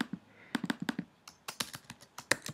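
Rapid keystrokes clatter on a computer keyboard while text is entered in PowerPoint: close, irregular bursts of clicks with short pauses between words.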